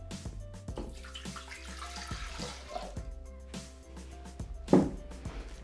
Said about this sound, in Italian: Iniziamo la ricetta versando all'interno del boccale l'acqua.